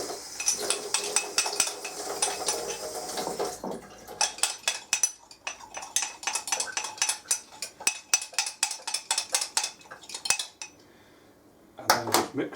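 A utensil stirs liver and bacon gravy in a metal pan, making quick, rhythmic scraping clinks in irregular bursts. They pause briefly near the end, then resume with a last few knocks.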